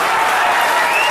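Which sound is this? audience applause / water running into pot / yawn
audience applause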